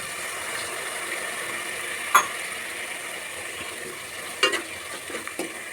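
Carrot halwa is stirred with boiled milk in a pan, a soft continuous scraping and gentle sizzle with a few sharper spoon clinks against the metal.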